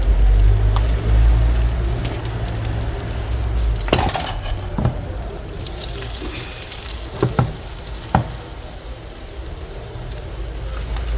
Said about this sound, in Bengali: অল্প তেলে ভাজা